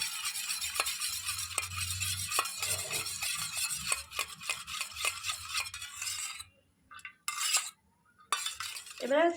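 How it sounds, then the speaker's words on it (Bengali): A spoon stirs mustard oil mixed with a little warm water in a bowl, giving repeated close scraping and clinking strokes against the bowl, with brief pauses near the end. "সর্ষের তেলের মধ্যে আমি দিয়ে দেবো সামান্য একটু গরম জল ভালো করে একটু মিশিয়ে নেবো"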